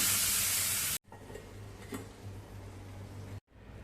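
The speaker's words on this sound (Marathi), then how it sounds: "आता गरम गरम फोडणी चटणीवरती घालूया." A loud burst of sizzling as hot tempering oil with asafoetida and curry leaves hits coconut chutney, dropping abruptly after a second into a low hum with faint crackles and clinks.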